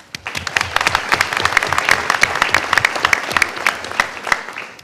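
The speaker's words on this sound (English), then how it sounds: "but he deserves an applause." Audience at a school district board meeting breaks into steady applause, many hands clapping densely and evenly for about five seconds at moderate loudness.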